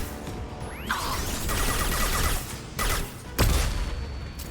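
Locust SMG firing in Mass Effect 2 during a combat encounter, a dense, sustained stream of automatic fire with a whooshing sweep and a heavy impact near the end, loud and continuous without talk.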